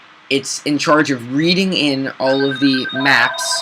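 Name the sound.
telephone ringing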